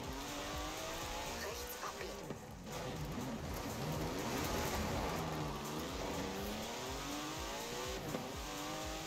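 A Porsche in Forza Horizon 4 runs at full throttle with a steady, loud engine drone, revs sweeping up and down through gear changes with some tire noise, and a voice talking faintly underneath.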